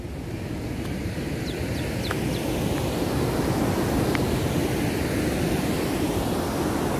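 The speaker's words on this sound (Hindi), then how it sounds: "चलिए तब देखिए किस टाइप से पानी गिर रहा है यहाँ पे।" Water roars steadily at a hydroelectric power house, a loud, continuous rushing wash with no pauses, heard alone without speech.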